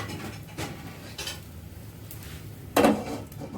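A lid set down on a pan of jowar chilla with red amaranth leaves cooking on low heat: one loud clattering knock near the end, with a few softer kitchen clinks before it against a quiet background.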